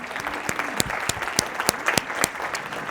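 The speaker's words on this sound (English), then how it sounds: "I want to give a round of applause to Rob Norman" A small audience at a business mastermind meeting applauds, sparse individual claps with a few sharp, distinct hand strikes standing out over a softer, steady patter, moderately close and without talk.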